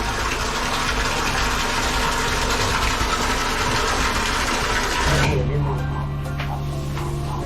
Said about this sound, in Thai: เราก็เอาน้ำจากในบ่อผ้าใบนี่แหละ น้ำเก่าที่ปลามีอยู่มาผสมรวมด้วย สูบเข้ามา เติมในบ่อให้ได้ระดับ